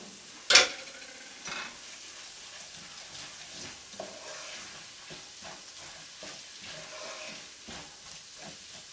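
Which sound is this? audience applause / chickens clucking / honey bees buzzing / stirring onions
stirring onions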